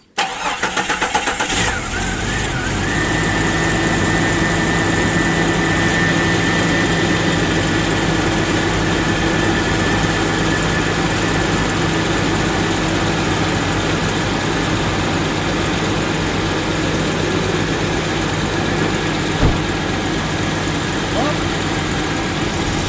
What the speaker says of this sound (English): I'm going to go around and I'm going to start up the motor and we're going to see it.